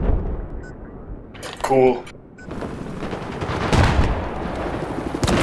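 Gunfire and explosions in the video game Battlefield 4, with dense bursts of shots and booming blasts, a short lull, then heavier rumbling fire, while a player speaks over the battle noise.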